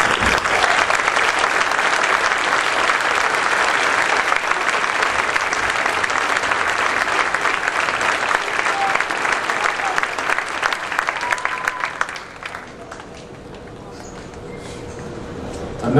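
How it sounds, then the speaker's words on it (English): A large commencement-ceremony audience applauds the faculty, with loud sustained clapping filling the hall for about twelve seconds before it thins out and fades into quieter room noise. "I'm asking all of you to join me in applauding them for the fine education they have provided our graduates"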